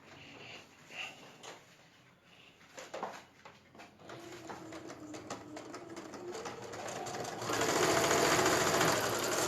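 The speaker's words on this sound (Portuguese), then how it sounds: "eu vou fazer o traço, a costura em cima do traço" A sewing machine stitches patchwork along a marked line in soft, uneven bursts of rapid whirring and ticking. It runs faint at first, then speeds up and grows louder into a steady hum near the end.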